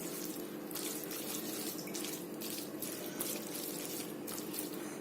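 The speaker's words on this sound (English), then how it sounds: "I am adding a small amount of water because I am thinking that this Maggi is very dry now." Water is poured into a pan of Maggi noodles with Szechuan sauce and mayo, a soft continuous splashing trickle that stays faint and even throughout.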